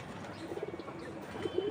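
A pigeon coos softly a few times over quiet room background, the low murmuring notes short and close by, with a slightly louder coo near the end.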